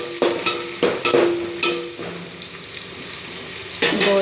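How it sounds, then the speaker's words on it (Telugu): Small onions frying in hot oil with cloves, stirred in the pan: loud close sizzle with a few sharp spatula knocks and scrapes early on, then quieter frying before a final stir. "ఆయిల్ కాగిన తర్వాత చిన్న సైజు ఎర్రగడ్డ తీసుకున్నాను"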